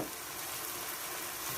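A half cup of water hits a hot pan of Dominican rice, giving a steady, even hiss of sizzling and bubbling that holds for a moment, close and continuous with no speech.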